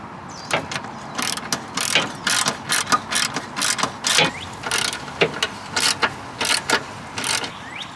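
Ratchet wrench tightening the battery mount on a mini truck mower conversion, loud close bursts of rapid clicking repeated in short strokes with brief pauses between them.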